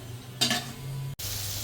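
Vegetables with beans are stir-fried in a pan: a brief burst of spatula scraping and sizzling rises out of a low, steady frying hiss, then a short clank before the gentle sizzle resumes.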